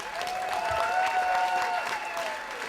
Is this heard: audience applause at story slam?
yes